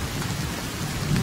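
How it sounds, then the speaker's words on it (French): Steady rain with low rumbling thunder in the survival video game The Forest, a continuous wash of falling drops over a deep roll throughout. "Il pleut."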